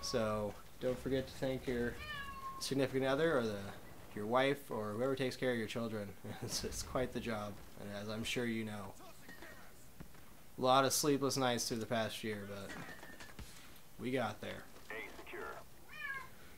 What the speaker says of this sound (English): Oh, you can hear my cat in the background.